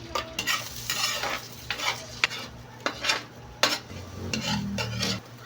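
Egg frying in a pan with oil: a soft steady sizzle broken by repeated scraping and stirring clinks of a utensil against the pan, fairly quiet and close, no talk.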